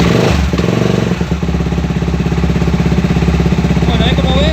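A Benelli TNT 25 250cc motorcycle engine that is not charging its battery cranks, catches and settles into a loud, close, steady rhythmic idle, with a brief voice near the end.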